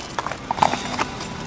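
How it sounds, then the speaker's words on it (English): A jittery horse in the British Columbia woods clip-clops with a run of irregular hoof strikes, moderately close, the loudest near the middle of the short stretch, with no talk. "His horse just darted into the woods."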